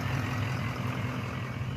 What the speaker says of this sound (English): That truck is very loud.